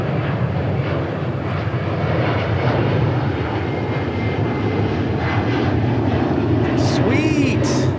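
Iberia airliner taking off at night at DFW International Airport, a loud continuous roar of aircraft engines that holds steady throughout, with people talking faintly beneath it.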